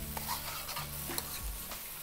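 Mapo eggplant stirred in a pan with the heat just turned off, a brief scraping stir over soft residual sizzle, close and alone with no voices.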